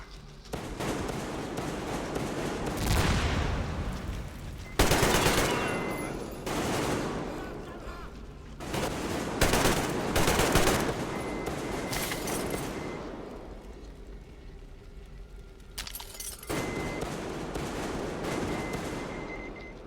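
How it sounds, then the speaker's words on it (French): An enemy fires at the player in the video game Metro Exodus, with loud bursts of gunfire and rattling volleys separated by brief lulls. Someone talks over parts of it. "En fait, il me tire dessus là. C'est ça le bruit."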